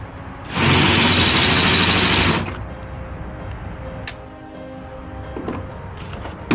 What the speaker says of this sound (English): I'm going to take a drill and just drill this out.